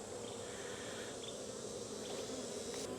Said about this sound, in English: these bees are acting right, but they just don't have any brood at all